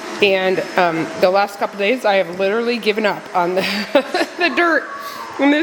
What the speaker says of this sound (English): You can hear the vacuum in the background.